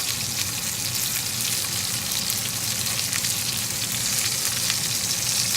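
Hot oil sizzles steadily as lamb chops fry in a pan, a dense, continuous crackle with frequent small pops, close and fairly loud throughout with no talk.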